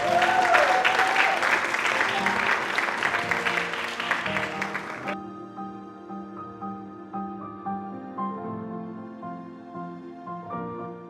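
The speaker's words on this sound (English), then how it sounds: "let's get Julie another round of applause" An audience at a high school movie festival applauds: dense, steady clapping from a full room fills the first five seconds, then cuts away to soft music.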